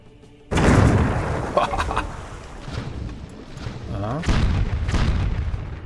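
Ship cannons fire in a naval battle in Patrizier 2, a loud boom opening a stretch of rumbling blasts and impacts, with someone talking over the noise.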